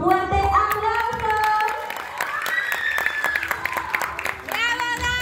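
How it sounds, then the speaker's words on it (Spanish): Clapping at a 2019 school talent show greets a singer about to perform, mixed with loud voices calling out and cheering over the applause. "Y nosotros la recibimos con un fuerte aplauso."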